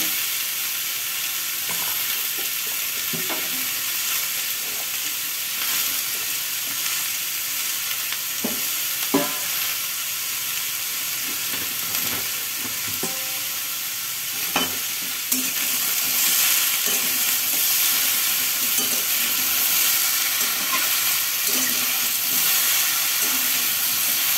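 Drumstick (sajne data) stalks fry in a pan with a steady hiss of oil, while a spoon scrapes and clinks against the pan now and then. The sizzle gets louder and brighter partway through, and no one speaks.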